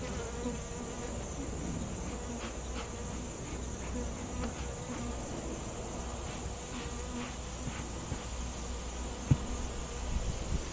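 Dense, steady buzzing of many honey bees in a hive fills the recording continuously, close and moderately loud, with no talking.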